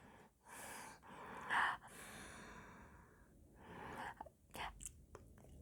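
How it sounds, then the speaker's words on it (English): A person breathes close to the microphone in slow, soft cycles, with audible inhales and exhales, an occasional sharper sniff or snort, and quiet stretches between breaths. "Just sitting listening to me breathing is not that interesting."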